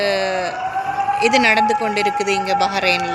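Wailing emergency sirens in Bahrain sweep up and down steadily, loud and close, with several tones overlapping while someone talks over them.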